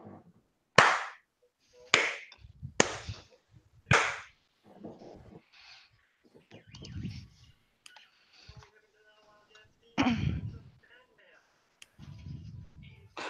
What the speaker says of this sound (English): I feel the sudden urge to slow clap